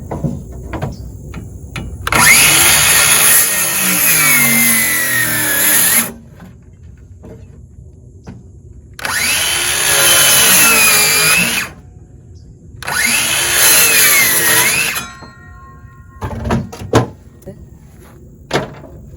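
A saw bites through a wooden picket in three separate loud bursts of harsh whining cutting, chopping it into small plugs, with short quiet pauses and faint clatter between cuts.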